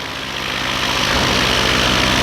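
An EOS Quattro Beta paramotor engine runs at a steady, loud drone that rises slightly in intensity, a continuous buzzing roar heard up close with no speech.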